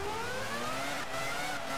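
Formula 1 car engine in EA F1 2001 screaming at high revs, a steady loud whine with pitch climbing as it accelerates, continuous and close with no speech.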